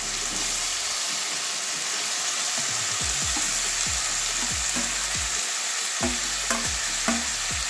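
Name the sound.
potatoes and jackfruit stirred and frying in pan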